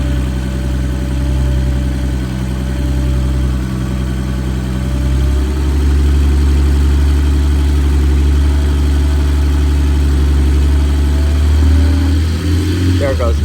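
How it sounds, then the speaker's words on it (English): Car engine idling steadily with the air-conditioning compressor running, a loud continuous low hum whose tone shifts slightly partway through as the clutch drops out and re-engages, with a brief change near the end. "I heard the clutch cut out and they just cut back in"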